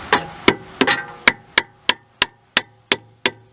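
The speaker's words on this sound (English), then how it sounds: "a light tap with the ball peen hammer on the bottom of the horseshoe to hit it up" A ball peen hammer taps a metal horseshoe part about eleven times in a steady rhythm during a front axle replacement on a 2003-2007 Honda Accord, each strike sharp, bright and ringing, close by with no voices.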